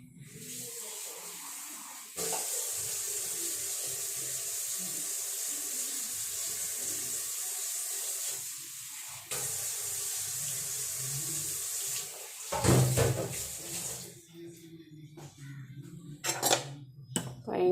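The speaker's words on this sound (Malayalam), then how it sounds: "ഇച്ചിരി വെള്ളം കൂടെ ചേർക്കണം" Water runs from a kitchen tap while mango pulissery, a curry of mango with ground coconut, cumin, turmeric and yogurt, is being made. The steady stream breaks off twice, then soft clinks of dishes follow.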